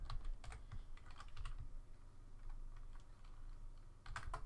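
Fingers type on a computer keyboard in quiet, irregular bursts of keystrokes. The clicks are busiest at the start and again near the end, with a softer patter in between. No one speaks.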